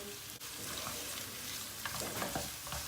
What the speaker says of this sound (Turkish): Havucu soğanı etle beraber kavurmaya devam edeceğiz.